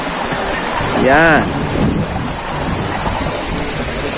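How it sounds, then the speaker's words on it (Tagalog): A waterfall rushes with a steady, loud broadband roar throughout, and a voice briefly calls out over the water noise near the start. "Itong falls na ito, nagbubulos na ito."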